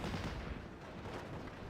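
Artillery fire in the WWII strategy game Steel Division Normandy 44, heard as a dull, rumbling boom that rolls on as a low, continuous roar, fairly distant, with no talk.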